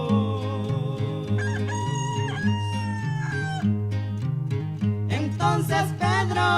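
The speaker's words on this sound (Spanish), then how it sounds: "y el gallo cantó en alta voz" Rooster crowing loud and drawn out with several rising calls over sustained music, with no talk in between.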